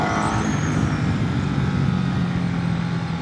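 Continuous engine drone from a Ducati Multistrada V2 motorcycle being ridden on the road, steady and loud, mixed with wind rush, with no talking.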